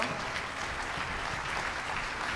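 Steady applause from a crowd, a dense, even patter of clapping hands continuing throughout without voices standing out.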